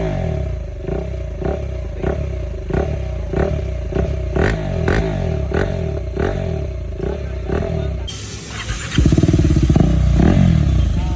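KTM Duke 390 BS6 motorcycle with a loud aftermarket exhaust blips its throttle in a regular series of sharp revs, then breaks into a harsher sustained roar near the end.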